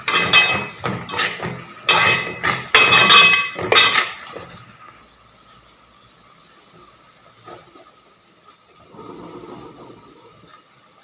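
Onions cooked through in a pan get salt and a pinch of turmeric stirred in for okra sabzi, with clinks and scrapes of a utensil against the pan over sizzling for about four seconds, then near-quiet hiss with faint stirring.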